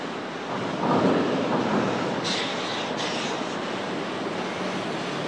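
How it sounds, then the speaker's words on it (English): A steam excursion train departs Ridgely, West Virginia, on the former Western Maryland Railway line, giving a broad, steady rushing roar with a swell near the start and faint hissing bursts in the middle. "our train is departing Ridgely, West Virginia"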